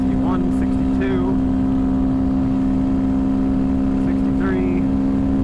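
Honda Grom motorcycle at a steady top-speed cruise, its engine droning at a constant high pitch, loud and close throughout, with wind noise and a rider's voice speaking over it at times.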